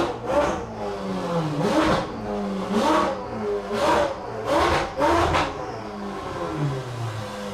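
A Ferrari engine revs in about six sharp, evenly spaced bursts, each rising and falling quickly, loud and close with a steady idle rumble between them.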